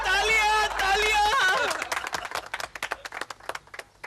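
On a Hindi TV comedy show, a sustained held musical tone gives way to a burst of audience clapping that turns into loose, scattered individual claps fading out.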